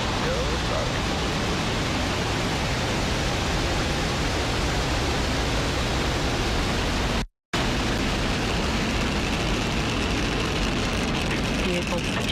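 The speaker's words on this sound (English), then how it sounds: "ignition, full power, and liftoff. Go Falcon, go Starlink." A SpaceX Falcon rocket ignites and lifts off on a Starlink launch, a loud broadband roar that holds steady for several seconds, breaks off for a moment and then resumes.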